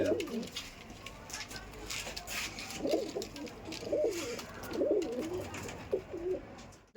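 Punjabi pigeons coo in soft, rhythmic bursts repeating every second or so, fairly close but quiet, with someone speaking over them.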